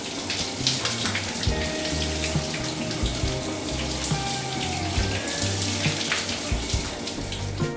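Shower water running steadily in the cramped wet area of a campervan on a road trip around Italy, a continuous splashing stream with faint knocks and drips underneath, close and alone with no talking.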